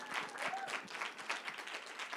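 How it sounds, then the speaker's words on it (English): Audience at a charity Giving Tuesday gala applauding, a dense steady wash of clapping from many hands that holds throughout. "I just want to give them another round of applause for learning the lessons as well"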